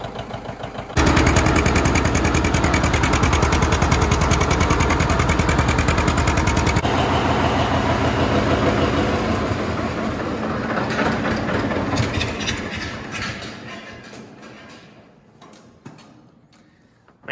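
An old John Deere 7020 tractor runs loud and close, its engine a steady low drone with a rattling tick that eases and thins toward the end.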